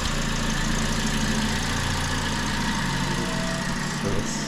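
A car's engine idles steadily under the open hood during an inspection, giving a constant, close, even hum with no revving.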